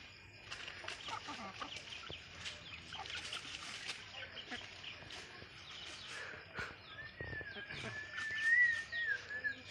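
A village desi rooster clucks and squawks while fighting a duck outdoors, with repeated sharp calls and scuffling over a low background, and voices talking faintly underneath.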